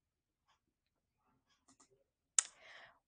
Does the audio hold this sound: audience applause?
no